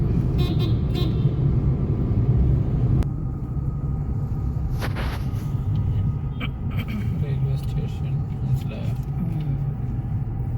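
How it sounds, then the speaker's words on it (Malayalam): A car is driven along city roads near Kadavanthra and its railway station area, with a steady engine and road rumble under talk inside the car, and occasional horn toots from traffic nearby. "പൊന്നൂഷാണ് വണ്ടി ഓടിക്കുന്നത് കണ്ടോ ഗൈസ്"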